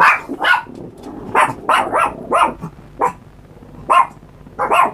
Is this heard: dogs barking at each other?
yes